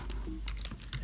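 Computer keyboard keys tapped in quick succession, a handful of light clicks close up over a low hum.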